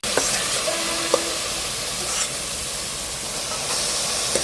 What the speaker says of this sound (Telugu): ఆయిల్ అది ఏం లేదు మేడం, జస్ట్ చికెన్ వేస్తున్నాను